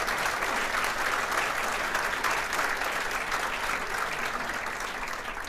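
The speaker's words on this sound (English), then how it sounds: "So give Donna Duperon a big round of applause." A crowd at a regional state-of-the-region event breaks into sustained applause, an even, dense roar of clapping that holds at steady loudness throughout.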